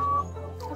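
Chickens on a desi hill farm in Uttarakhand give a few close, short clucks over a steady low hum, with no voices.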